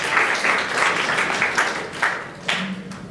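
Audience at a closing-day model UN general assembly applauding a delegate; a steady, dense wash of clapping fills the hall, with a few sharper bursts near the end.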